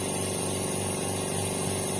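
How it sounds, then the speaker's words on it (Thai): Steady, continuous mechanical hum of an oil-free air compressor pump running, with a constant droning tone and no pauses. "เป็นปั๊มไร้น้ำมันนะครับ"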